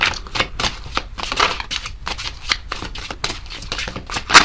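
Tarot cards being shuffled by hand, a rapid series of close, crisp riffling snaps and flutters in quick bursts, ending with one louder slap.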